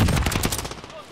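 A short volley of rapid gunfire in a video game, loud and close at first, then fading out within about a second.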